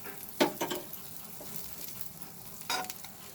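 Butter melts in a heated pan before spices are added for butter chicken, giving a soft continuous sizzle broken by a few sharp clinks and scrapes, close and without any talk.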